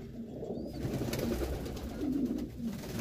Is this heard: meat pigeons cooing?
yes